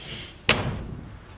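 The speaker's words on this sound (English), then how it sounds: "You can close the door behind you." A door slams shut in a quiet indoor room, one sharp close thud followed by a brief rattle and faint settling knock, with no talk over it.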